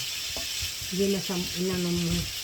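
Annatto seeds fry in cooking oil with a steady hiss, while a couple of brief tonal squeals rise over the sizzle midway.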